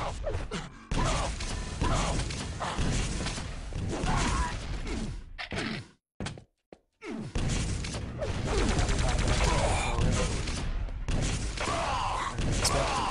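Weapon fire in a Quake Live match at the ESL IEM 5 World Finals semi-final, with dense, loud gunfire and mechanical clatter that continue almost without a break, apart from a brief dropout midway.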